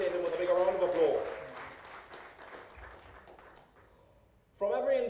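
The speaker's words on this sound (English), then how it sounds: "shall we appreciate him with a big round of applause?" Audience applause at a football tournament draw ceremony, a brief burst of clapping under a presenter's amplified voice that tails off, then the speaking resumes loudly.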